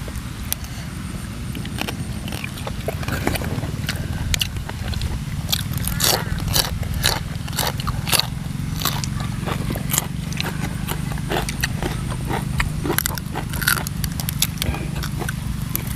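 Crisp skin of a large whole roast pig being bitten and chewed up close, with a steady run of sharp crackling crunches over a low background murmur.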